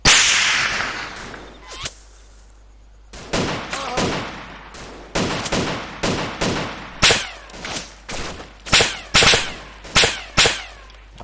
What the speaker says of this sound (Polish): Oj, cały czas strzały w soborze.